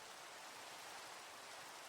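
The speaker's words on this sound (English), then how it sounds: "I really need to do something about this rain. It is so loud." Steady rain falling in Minecraft, an even hiss of drops with no breaks, soft and uniform throughout.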